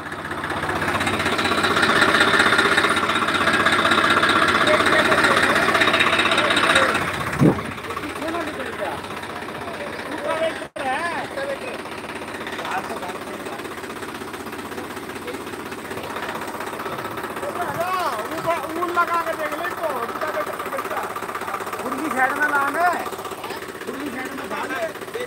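A tractor stuck and sunk into soft ground, its engine running with a steady chugging rumble under a voice talking, briefly dropping then continuing.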